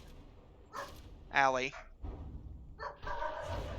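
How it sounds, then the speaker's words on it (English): Dogs bark and yip indoors and nearby, a few short separate barks with a clearer tonal yelp in the middle, while a person speaks a name over them. "Of course, there's another dog outside"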